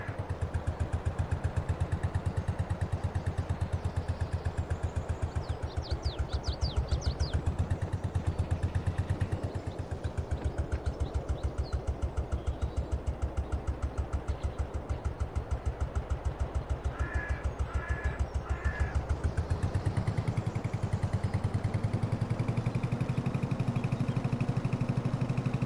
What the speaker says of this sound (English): I do love this tractor.